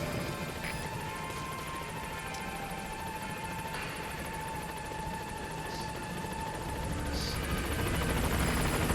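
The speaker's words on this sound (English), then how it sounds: "The helicopter's the ACC. Arriving shortly" A helicopter arrives in the video game Metal Gear Solid 5, its steady rotor drone sustained and moderately quiet, swelling slightly near the end, with faint scattered game effects and no speech.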